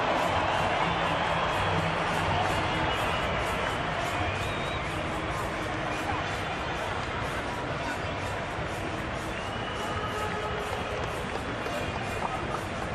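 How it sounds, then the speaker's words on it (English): A rugby sevens stadium crowd at a Fiji versus Samoa quarter-final in South Africa roars in a steady, dense wash of noise that holds throughout, with a commentator talking over it. "Listen to this crowd."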